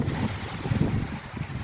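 Wind blows along the northern coast at dawn after a cyclone, a steady rough rushing with low buffeting rumbles against the microphone and faint surf-like hiss, no voices.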